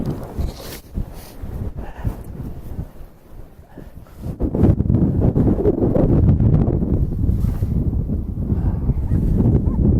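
Strong outdoor wind buffets the microphone in gusts, rumbling loud and steady for most of the stretch, easing briefly in the middle before surging back with constant roaring noise.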